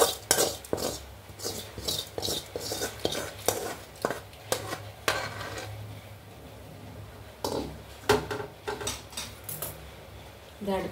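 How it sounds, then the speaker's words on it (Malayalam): Fried onion and chili stirred into coconut roasting in a pan, with repeated sharp metal clinks and scrapes of a spoon against the pan in an irregular rhythm, close and clear, with faint frying beneath. "ഉള്ളിയും മുളകും കൂടി മുരിച്ചത് നമുക്ക് തേങ്ങ വറുക്കാനുള്ളതിലേക്ക് ഇടാം"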